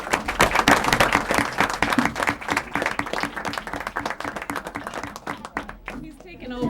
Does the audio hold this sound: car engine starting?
no